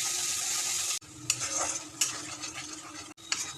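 Spice paste of turmeric and chili powders being stirred in a pan for dal Amritsari, with a steady sizzle and a few scraping strokes of the spoon, close by and without talking.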